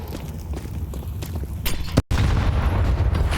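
Grenade detonating in a Counter-Strike match, a heavy low boom after a sharp cut, followed by loud rumbling, with footsteps and game noise beforehand.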